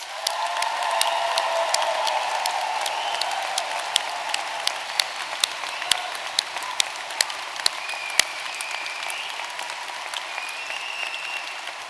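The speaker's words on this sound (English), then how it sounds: "Let's have another round of applause for the graduates." Audience at a drama school graduation ceremony applauding the graduates, a sustained wash of many hands clapping at moderate distance, steady throughout with a few sharper nearby claps standing out and no talk over it.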